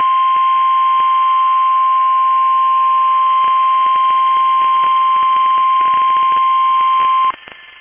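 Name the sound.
NOAA Weather Radio warning alarm test tone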